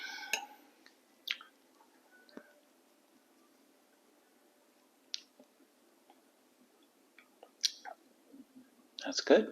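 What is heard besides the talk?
eating a peach aged for one year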